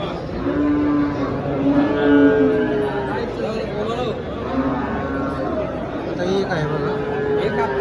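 Cows moo repeatedly at a busy cattle market for HF and Jersey cows in Dhule. Several drawn-out, fairly loud calls rise over steady crowd chatter and nearby talking.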